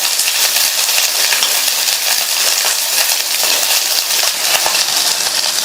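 Small onions and whole spices sauté in hot oil in a pan, giving a loud, steady, dense sizzle and crackle close up, with faint stirring and no voices.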